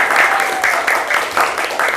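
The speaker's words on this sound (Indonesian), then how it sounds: "tepuk tangan untuk semuanya" A classroom of students claps together in a teaching session, giving steady, rhythmic applause at close range with no talk over it.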